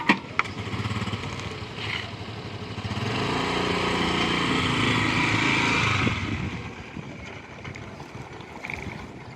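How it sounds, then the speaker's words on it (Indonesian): A motorcycle rides down a slope, speeding up from a standstill to about 14 km/h. Its engine drone swells and holds for a few seconds mid-way, then fades, with some wind noise around it. "gerak motor yang menuruni sebuah tanjakan"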